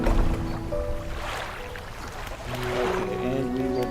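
A fishing boat's engine hums along with sloshing water and waves in the fishing game Dredge, a continuous loud wash of churning water with game music tones layered over it.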